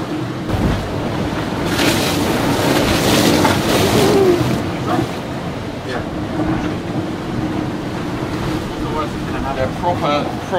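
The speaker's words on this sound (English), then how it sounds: "They're proper ocean waves," Heavy ocean waves crash and roar around a racing sailboat off Cape Horn in gale-force winds, with constant rushing water and wind buffeting the microphone, loud and close.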